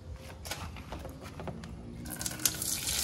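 Water sprays over a toy truck being washed, a soft continuous hiss and splash with small irregular spatters, growing slightly louder and fuller toward the end.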